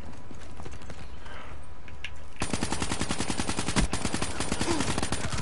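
Rapid bursts of gunfire from Call of Duty Black Ops 3 team deathmatch, a dense run of sharp shots starting partway in and continuing steadily to the end, loud and close, following a quieter stretch of game ambience.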